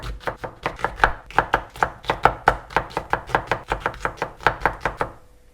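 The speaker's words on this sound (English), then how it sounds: "in that time I am going to thinly slice the onions" A knife thinly slicing onions on a board for kanda poha, a steady run of about twenty-five crisp, close chops at an even rhythm, with no voices.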